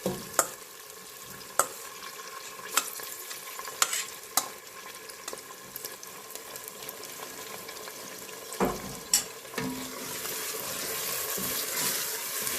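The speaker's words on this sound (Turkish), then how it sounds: "Kıymayı da güzelce hep beraber kavuruyoruz." Minced meat frying with green beans in a pan, a steady sizzle broken by repeated sharp spoon knocks and scrapes against the pan, close and moderately loud, with the hiss growing toward the end and no talking.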